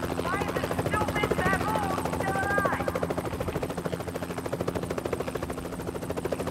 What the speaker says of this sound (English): I can't stand this helicopter anymore